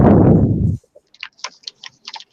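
Fast typing on a computer keyboard: a rapid, irregular patter of light key clicks, close and fairly faint, follows a burst of loud noise that cuts off abruptly.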